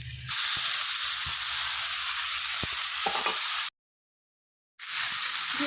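Loud hissing sizzle of taro flowers frying in hot oil, with a few soft clinks, cutting out briefly before resuming.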